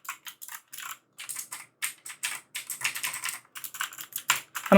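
Typing on an EVGA computer keyboard, with quick crisp keystrokes in a steady irregular rhythm, heard close up and alone.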